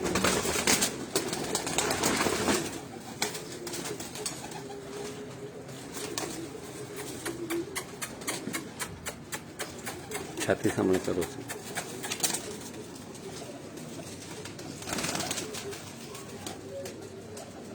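Cheena pigeons coo at a breeder's loft in Pindi, low repeated calls scattered through the yard with a brief burst of wing flaps, under a voice giving instructions.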